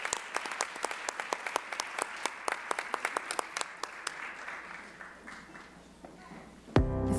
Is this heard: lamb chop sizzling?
no